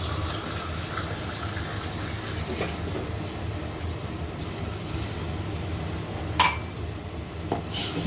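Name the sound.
water being poured into cooking chicken curry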